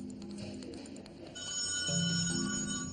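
A telephone rings indoors, a steady electronic trill with a fairly faint tone that repeats and then grows louder partway through, with no voices over it.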